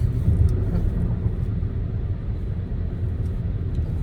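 Steady low rumble inside a car while driving, with no talking, holding an even level throughout.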